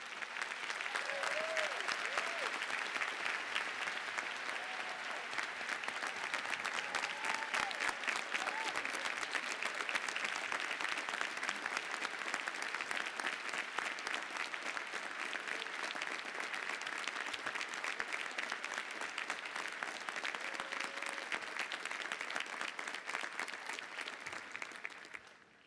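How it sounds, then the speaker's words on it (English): Sustained applause from a large audience at a 2017 graduate commencement ceremony, steady and dense throughout, loud and continuous before fading at the end. "join me in thanking him and honoring him with a giant round of applause"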